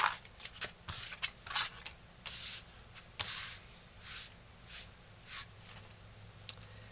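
Tarot cards being shuffled and drawn, a series of soft papery riffles and slides in irregular bursts, close and quiet, with no talking.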